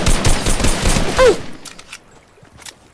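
Rapid video-game gunfire bursts loudly for about a second and a half, then drops away to quieter scattered in-game sounds.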